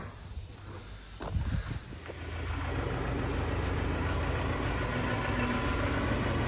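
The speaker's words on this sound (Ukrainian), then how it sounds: "другий тракторець розвантажується" A low, steady Basak 2110S tractor engine drone settles in after a couple of seconds of shuffling and clatter during unloading, idling continuously and fairly loud to the end.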